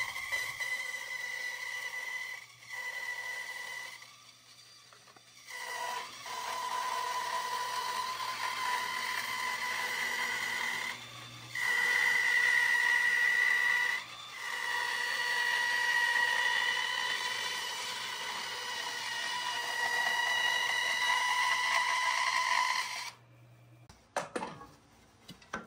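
A Harbor Freight bandsaw with its stock blade at normal speed cuts a 3/4-inch board, a steady whining hum broken by several brief pauses over roughly twenty seconds before the motor stops.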